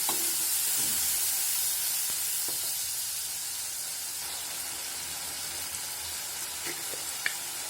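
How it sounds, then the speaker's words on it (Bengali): Steady hissing sizzle of cumin and coriander powder frying in a hot pan, with a few small clicks and scrapes of stirring, no one speaking. "এক চামচ জিরা গুঁড়া, এক চামচ ধনিয়া গুঁড়া দিয়ে আমি আরেকটু নাড়িয়ে নিব"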